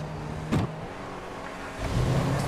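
Franklin's car, a Buffalo, driving in GTA 5, with a steady engine drone, a sharp swoosh near the start and the engine note rising again toward the end; no talk.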